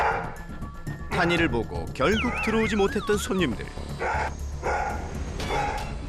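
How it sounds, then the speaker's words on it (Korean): A dog barks at customers entering a bookstore, loud yapping barks mixed with whining yips, heard under a voice talking over the scene. "타니는 책방에 오는 손님을 보면 짖느라 바빴는데요"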